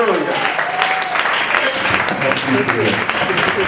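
A church congregation claps and cheers for the word of God, a loud, continuous burst of clapping mixed with excited voices and shouts throughout.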